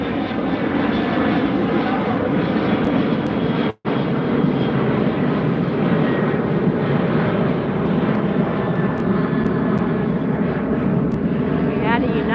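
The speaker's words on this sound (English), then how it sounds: "There goes your WestJet right there" A WestJet airliner takes off from LAX beside a beach, its jet engines giving a steady, loud roar for the whole stretch with one short dropout, while people talk nearby.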